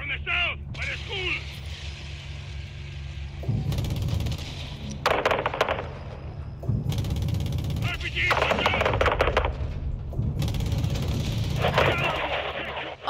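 Gunfire rattles through a Call of Duty Modern Warfare II campaign firefight, with repeated machine-gun bursts in several distinct waves over a steady low rumble. Voices come and go between the volleys.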